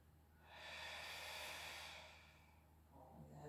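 One slow, soft inhale through the nose during a Pilates exercise, close and quiet, rising and fading over about a second and a half, followed by a faint second breath.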